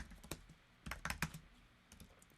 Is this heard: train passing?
no